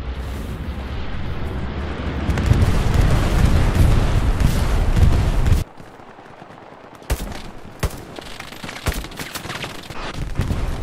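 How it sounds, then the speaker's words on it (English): Enemy bombing-run explosions rumble heavily in the war game Hell Let Loose as a long, loud barrage of booms. The barrage cuts off abruptly and is followed by scattered, sharp distant blasts and gunfire. "Enemy bombing run"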